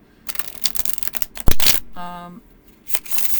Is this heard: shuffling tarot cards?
yes